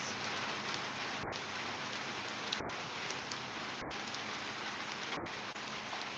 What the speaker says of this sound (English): Wow, the rain's really coming in here then.